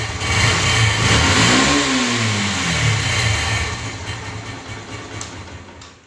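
Motorcycle engine revving up, then settling toward a steady idle, loud and close with a rising-then-falling pitch sweep and no talk.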